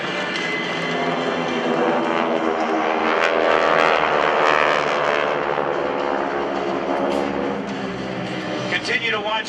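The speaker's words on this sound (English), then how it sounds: "Continue to watch the aircraft overhead as they rejoin" GEICO Skytypers propeller airplanes fly overhead in formation at a military open house air show, a loud, steady droning roar of multiple piston engines that swells and holds throughout.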